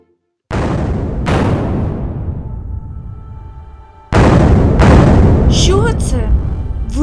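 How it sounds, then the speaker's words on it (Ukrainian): Two pairs of heavy booming blasts, each with a long rumbling decay, the second pair louder and closer. "вибухи?"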